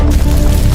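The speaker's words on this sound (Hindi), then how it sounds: "ये एक्सप्लोजन हुआ था।" A sustained, loud low rumble like an explosion effect fills the short moment without a break, with no voices over it.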